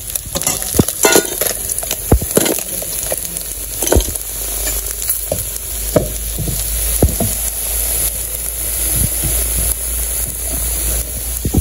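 Small mola fish fry in a pan with a loud, steady, close sizzle, broken by frequent sharp clicks and scrapes of a utensil stirring.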